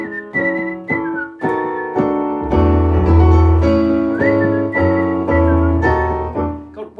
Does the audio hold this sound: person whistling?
yes